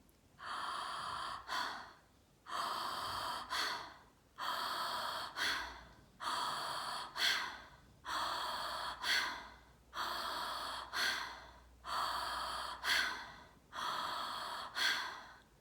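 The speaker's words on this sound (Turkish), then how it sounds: "ağızdan Bağlantılı nefese birlikte başlayalım" Connected breathing through the mouth in a guided breathwork session, steady deep inhales and exhales with no pause between them, about nine breath cycles at a slow even rhythm, close and soft, with no talking.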